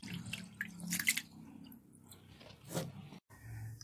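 Basmati rice being washed and its water drained, close wet drips, sloshing and grainy rustles coming in uneven bursts with brief quiet gaps.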